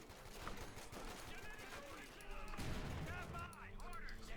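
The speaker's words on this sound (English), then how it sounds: "good hit with the machine gun there" Machine gun fire in Company of Heroes 2, a World War II battle between Wehrmacht and US forces with an MG42 in the field, rattling bursts mixed with other battlefield shots and impacts, heard under a commentator's voice.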